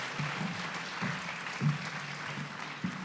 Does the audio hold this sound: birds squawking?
no